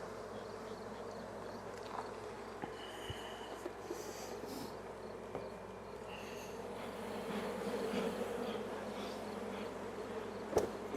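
Honeybees buzz steadily around an opened hive box during a late-season beekeeping inspection, a continuous close drone of many wings with a few brief knocks and handling sounds.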